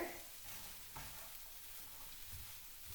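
Chickpea scramble with cayenne, cumin, turmeric and paprika in coconut oil, stirred in a pan with quiet scraping and a faint continuous sizzle, a couple of soft knocks, close and low, no talking.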